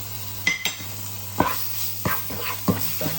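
Chicken saluna being stirred with tomato paste in a pan, a sizzling bed under a few sharp scrapes and clinks of the spoon against the pan at irregular intervals.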